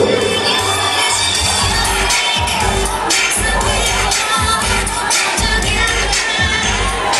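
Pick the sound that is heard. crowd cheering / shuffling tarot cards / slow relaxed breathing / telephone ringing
crowd cheering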